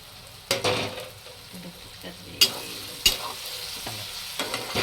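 Onion, tomato, turmeric, salt and spice masala are stirred together in a hot pan for baingan bharta, a low sizzle under a few sharp scraping strokes of the spoon, close up with no voices.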